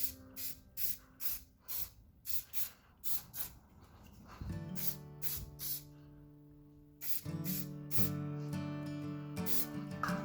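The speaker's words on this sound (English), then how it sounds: "And then get some of this hairspray down." Hairspray is sprayed onto a soft pastel flower painting in short, quick hissing bursts close by, repeated in a rhythmic series, with a steady tonal hum underneath in the later part.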